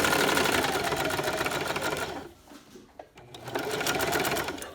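Sewing machine zigzag stitching across the foot of a baby sleeper through several fabric layers, a steady close rapid whir that pauses briefly midway and then resumes.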